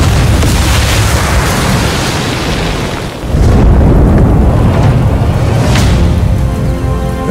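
A massive explosion in Sniper Elite 5 set at the Festung Guernsey fortress roars loud and close as a long, dense rumble that swells again midway, with debris crackling and booming for several seconds.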